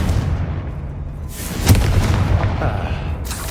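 A Confringo blast spell in Hogwarts Legacy erupts as a deep boom with a sharp crack near the middle, over a steady low rumble of game ambience.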